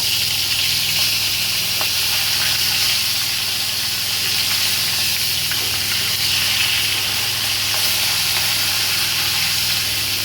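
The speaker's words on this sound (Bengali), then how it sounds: "তেল গরম হয়ে গেছে, এবার আমি মাছটা ভেজে নেব।" Fish heads frying in hot oil in a pan give a steady, close hiss and sizzle that holds evenly throughout, with no voices.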